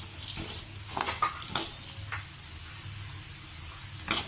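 Dry spices, cumin, mustard seeds and red chilies roasting in a pan while being stirred, a faint sizzle with a few scraping strokes and one small clink, close and quiet.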